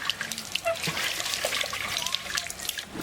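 Water trickles and splashes as pakal fish are rinsed, with irregular drips and sloshes close by and faint background sounds.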